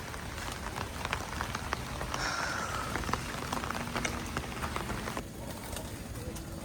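Steady rain patters on surfaces without letup at a pigeon loft, with a few faint bird calls and soft pigeon cooing in the background.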